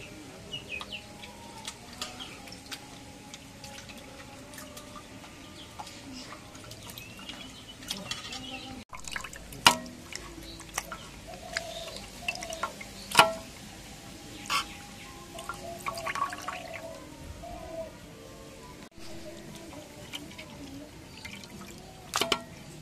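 Broiler chicken pieces being rinsed in water in a home kitchen, with sparse drips, splashes and clinks of pieces against a bowl, fairly quiet and close, with birdsong and a rooster faint in the background.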